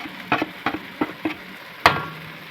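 Chicken curry spice powders are stirred in a pan, with a series of short scraping strokes of a spoon over a low steady frying hiss, ending in one louder scrape.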